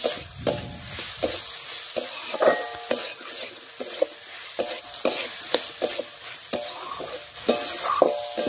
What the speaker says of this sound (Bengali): এটাও ভালোভাবে একটু সবজির সাথে নাড়িয়ে মিশিয়ে নিচ্ছি।